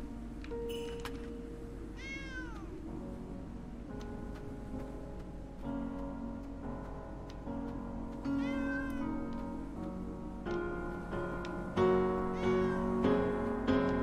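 A cat meows repeatedly in the horror video game Annie Last Hope, several drawn-out, rising and falling cries spread over the stretch against a steady ambient game drone, with no talk.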